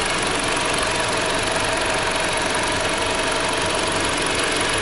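A 2.0 liter engine in a Jeep Patriot Latitude FWD with a CVT transmission idles steadily up close, a continuous even hum with a faint knocking rattle and no talking over it.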